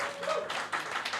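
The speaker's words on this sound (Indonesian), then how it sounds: "Tepuk tangan dong." A packed live talk-show crowd claps at the host's welcome, a brief burst of applause with a few louder swells, fairly near and busy.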